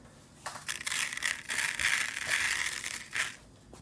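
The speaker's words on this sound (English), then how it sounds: "again we're gonna refill it with some rice." Basmati rice pours steadily into a homemade snare drum box, a dense rattling, crunchy patter of grains that swells and holds for a few seconds, close and fairly loud, with no voices.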